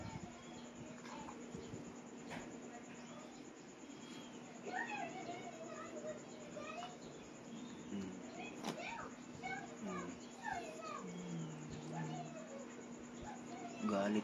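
Several cats, including a pregnant one, meow intermittently indoors, some drawn-out and wavering, over a steady background hum, with occasional soft clicks and faint voices.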